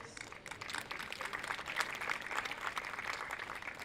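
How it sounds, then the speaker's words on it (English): Soft, distant applause from a graduation audience thanking staff, a steady patter of many hands at low level with no voices over it. "they deserve a big round of applause"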